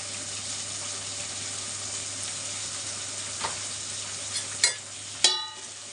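Brinjal curry with added turmeric bubbles with a faint, even sizzle, then a few sharp scrapes and knocks of stirring land near the end.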